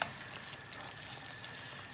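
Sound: spaghetti sauce bubbling on the stove

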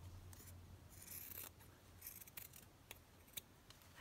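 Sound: scissors trimming fabric

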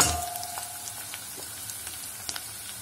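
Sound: onions and flour frying in pot for lentil soup

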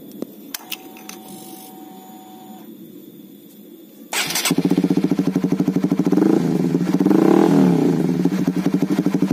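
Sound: Honda CBR150R idling with Proliner TR1-R full-system exhaust

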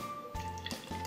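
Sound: pouring blended mango lassi into a small jar

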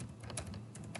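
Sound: typing code on a computer keyboard

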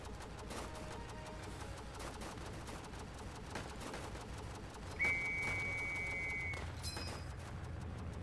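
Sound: machine gun fire from a video game

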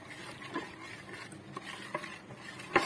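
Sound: stirring batter with water for tempe kremes

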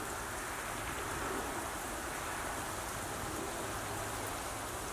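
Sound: sleet or small ice pellets falling outside

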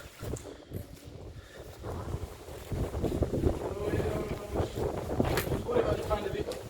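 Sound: wind draft blowing through abandoned building

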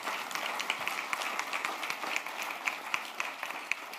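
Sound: audience applauding at a round-table

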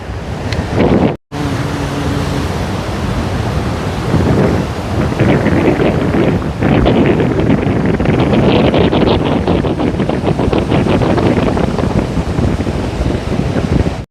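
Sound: sea waves and wind

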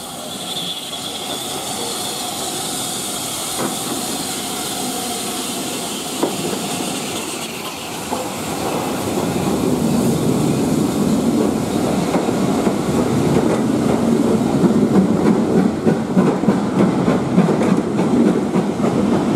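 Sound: locomotive 73069 passing through station with passenger train

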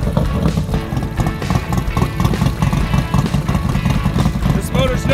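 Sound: 2015 Harley-Davidson Road Glide Special motorcycle engine running

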